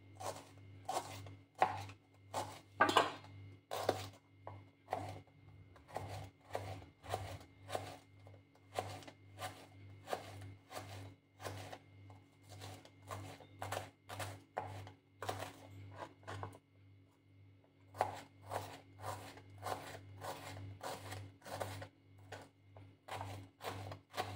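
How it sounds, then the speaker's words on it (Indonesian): Shallots, garlic and bird's eye chilies are chopped on a board in a long run of quick, sharp knife strikes, steady and rhythmic with brief pauses, close and fairly quiet. "Sekarang kita mulai potong-potong."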